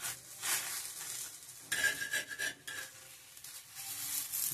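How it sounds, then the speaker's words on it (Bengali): Patisapta, rice-flour pancakes rolled around a kheer filling, fry in a pan with a quiet, uneven sizzle broken by brief scraping and stirring sounds, close by and without speech. "পাটিসাপটা ভেজে নিচ্ছি।"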